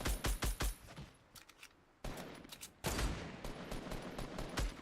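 Fortnite gunfire: a rapid string of sharp, loud shots at the start, a brief lull, then more bursts and sustained firing mixed with impacts, close and punchy throughout.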